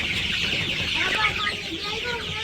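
Several chickens in a village yard cluck steadily and overlap one another, close and fairly loud, with a low background rumble and no speech.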